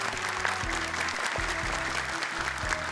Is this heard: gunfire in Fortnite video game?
no